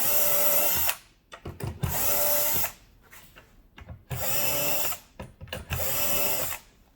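Power drill pre-drilling screw holes for adjustable rollout shelves with half-inch bottoms, three close whirring bursts of about a second each separated by quieter handling and clatter.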